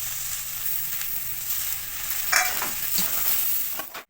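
A mashed potato mixture is mixed in a pan, with a steady low sizzle under scattered scraping strokes and light clatters that grow busier toward the end before a final knock and sudden stop.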